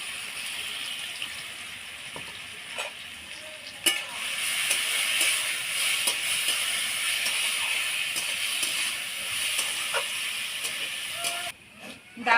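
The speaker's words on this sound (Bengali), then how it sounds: "পিপা ডাল করার জন্য প্রথমে আমি ডালটাকে অল্প তেল দিয়ে কড়াইতে ভেজে নিচ্ছি।" Masoor lentils frying in a little oil in a wok for pipe dal, a soft continuous sizzle with occasional stirring clicks, fairly quiet, ending in a brief drop before a final clatter.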